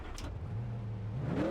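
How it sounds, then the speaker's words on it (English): A race car engine in iRacing at Charlotte starting after it was thought blown, a low mechanical turnover that rises into a climbing rev near the end, close and fairly loud, and no talk. "Wait, how is our engine able to start?"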